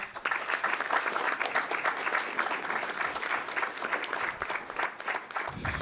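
Sustained clapping from an audience at a school board of education meeting honoring students, dense and steady throughout, fairly close and even in loudness.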